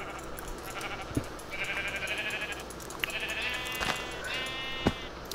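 Sheep in the Minecraft Terrafirmacraft mod bleat several times, wavering nasal cries that come in separate bursts, loud and close, with soft thumps of hits landing between them and no talking.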